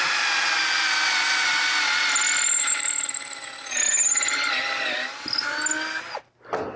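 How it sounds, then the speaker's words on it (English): A power drill whines steadily into wood, its motor pitch shifting slightly as the bit bites, then winding down briefly before spinning up again. "and I'll just drill these right out."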